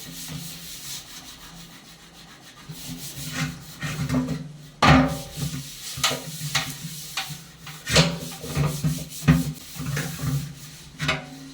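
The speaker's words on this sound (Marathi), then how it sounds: "आंब्या पितळाची भांडी घासून झाली" Repeated rough scrubbing and rubbing strokes against brass and copper vessels, close and fairly loud, with occasional clanks between bursts of rhythmic friction.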